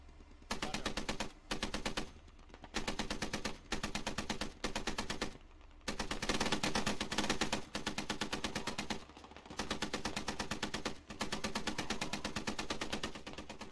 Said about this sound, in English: good suppressing fire